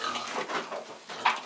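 A pregnant sow on a farm grunts during an ultrasound pregnancy check, two months after insemination by a boar; low snorting grunts come close and fairly soft, with a sharper grunt near the end and faint handling noise, no talking.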